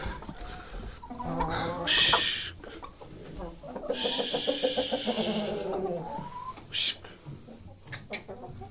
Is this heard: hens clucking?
yes